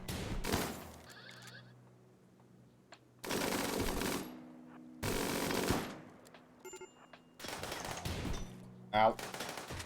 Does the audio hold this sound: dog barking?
no